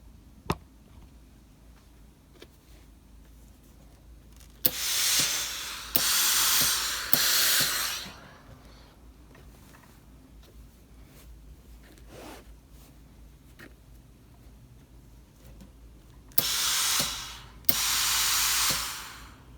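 A steam iron presses the raglan sleeve seams of a coat over a pressing ham. It gives two separate bursts of loud hissing steam, each lasting about three seconds, against a quiet room with faint thumps and no speech.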